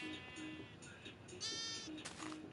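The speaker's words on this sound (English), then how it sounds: "is that the new baby sheep model?" Baby sheep from a Minecraft update bleating in the game, several short bleats spaced through the moment, fairly close over light background game sound.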